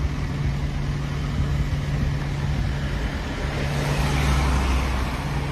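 A diesel lorry engine idles and rumbles steadily nearby on a road, a constant low drone with traffic noise around it, swelling slightly louder toward the end.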